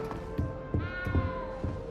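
A small cat meows in Hogwarts Legacy, a short plaintive mew rising over a low in-game hum, close and moderately loud, with soft footsteps and no talking.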